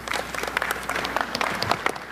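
An audience applauds for the chair of the board at a smart grid panel event, a steady patter of many hands clapping at moderate volume through the short moment.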